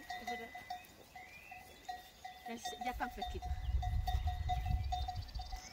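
A flock of sheep grazing outdoors in the afternoon gives scattered, faint bleats, with a low rumbling shuffle that swells in the second half, quiet and at some distance.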